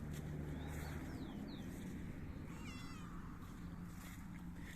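A cat meows several times, short and fairly faint, over a steady rushing outdoor background with no talking.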